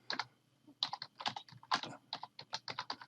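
Rapid, irregular clicking of fingers typing a message on a computer keyboard, close and quiet, with short pauses between bursts of keystrokes.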